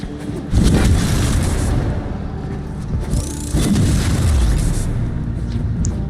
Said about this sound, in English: these explosions are massive